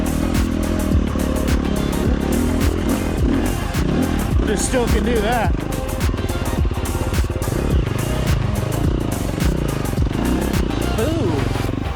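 A motorcycle engine running a Tokyo Mods Vortex ECU map rumbles and revs continuously close by, with someone talking over it throughout.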